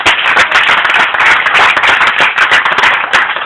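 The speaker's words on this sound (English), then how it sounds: "let's give them a great big hand of applause" A church congregation claps for children performing a Christmas play, loud, close, steady applause with dense individual hand claps continuing throughout.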